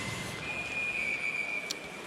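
A referee's whistle sounds one long, steady, piercing blast over loud crowd noise in an arena during a college ice hockey game, right after a face-off.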